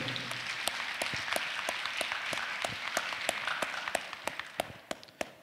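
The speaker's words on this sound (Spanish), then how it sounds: "Así que un aplauso para ustedes y gracias por su participación y bienvenidos." An audience claps at the opening ceremony of a Peruvian chemical engineering student congress, soft and fairly distant, with scattered sharper individual claps standing out as the applause thins toward the end.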